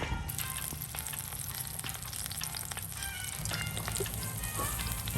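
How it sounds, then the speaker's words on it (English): Skin-side-down chicken fries in a pan for coq au vin, giving a quiet, steady sizzle with scattered small pops and crackles. "We're gonna fry the chicken."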